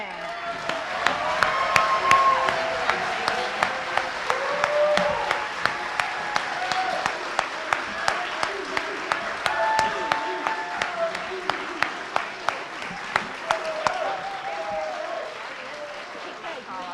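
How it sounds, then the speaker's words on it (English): Sustained audience applause at a congressional district candidates forum, dense steady clapping from a large crowd with sharp individual claps standing out, with voices calling and talking underneath throughout. "now it's time to clap"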